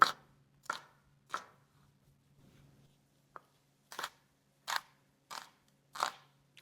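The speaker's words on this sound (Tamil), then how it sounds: "வெங்காயத்தை கழுவி போட்டு எந்திரியங்கள் நீளமாக வெட்டி போட்டு வெங்காயம் கொஞ்சம் நிறைய போடணும்" A knife chops washed onions lengthwise on a board in distinct, crisp strokes, three quick cuts, a pause with a faint rustle and light tap, then five more evenly spaced chops, close and clear with no talking.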